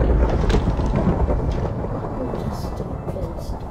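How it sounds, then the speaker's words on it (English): Thunderstorm in the Minecraft video game: a steady low rumble of rain and rolling thunder fills the whole stretch at even, fairly loud level, with no talk over it. "Storm, go away."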